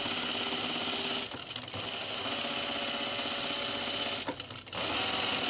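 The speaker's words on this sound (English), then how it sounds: "I'll be using my serger." Serger stitching a seam on an Azores dress, a steady close whir running almost without break, with two brief dips where the machine slows before racing on.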